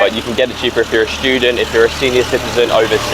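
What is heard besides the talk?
tractor driving past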